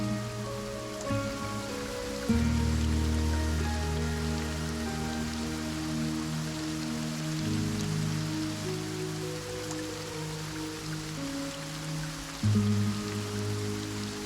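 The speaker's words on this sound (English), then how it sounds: "It's raining." Steady rain patters on surfaces in a story video game, an even wash of falling drops under sustained low musical tones.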